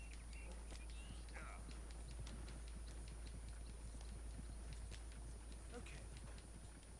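Horse hooves clip-clop in a video game with a steady walking rhythm, heard fairly faint under a low constant hum, with brief voices cutting in now and then.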